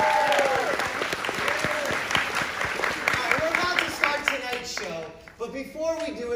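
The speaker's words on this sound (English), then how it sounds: "Big round of applause." Audience applause at a live tour show in Washington, D.C., a dense steady clapping from a full hall lasting throughout, with voices and cheers mixed in toward the end.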